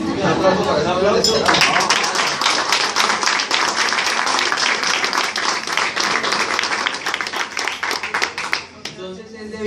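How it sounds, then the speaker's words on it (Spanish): An indoor audience breaks into loud sustained applause with scattered chatter and voices, building quickly and tapering off near the end. "Un aplauso para ese aplauso."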